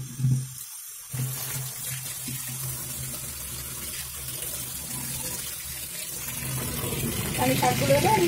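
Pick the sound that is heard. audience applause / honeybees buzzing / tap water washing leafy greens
tap water washing leafy greens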